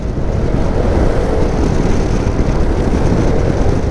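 Zontes M310 motorcycle engine running steadily while riding through a tunnel in Greece, a loud continuous low rumble with wind and road noise, constant throughout with no pauses.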